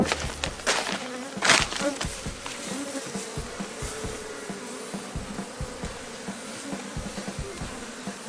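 Honey bees swarm around a relocated hive, a dense close buzzing with individual bees zipping past the microphone, some loud passes standing out over the steady hum.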